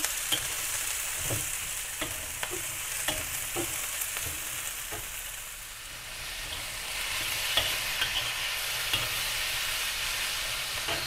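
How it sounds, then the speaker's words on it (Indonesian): Vegetables stir-fried in a hot pan for mi sagu goreng, a Pontianak-style fried sago noodle dish, give a steady loud sizzle broken by repeated scraping stirs at an uneven rhythm, close up and without voices. "Masukkan sayurannya, kita goreng dulu sampai layu ya."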